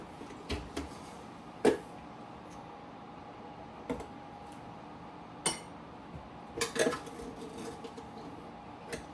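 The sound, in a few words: spoon clinking while getting a spoon for coffee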